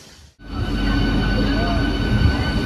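A train at Digha railway station around its 5:45 departure toward Howrah: a loud, steady rail rumble with a faint squealing tone sets in after a brief quiet moment and holds to the end.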